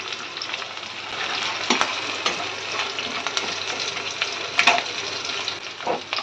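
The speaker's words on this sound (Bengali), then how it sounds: "আজকে বিয়েবাড়ির স্টাইলে মাছটা ভাজা হচ্ছে একটু ভাজা হয়ে যাক" Fish frying wedding-house style with whole garam masala and onion makes a steady, close sizzle, broken by occasional stirring clatters and scrapes.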